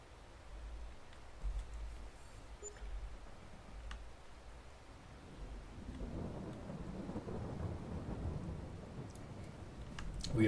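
Farming Simulator 22 weather plays as low rolling thunder rumbles with steady soft rain that grows heavier partway through, faint and distant with occasional light ticks.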